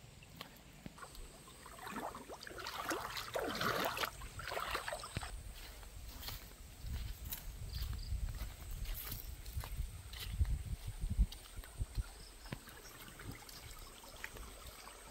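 Farm irrigation sprinkler spraying water outdoors, a steady broad hiss and patter of falling spray with rushing water and some low rumbling, moderately loud throughout without speech.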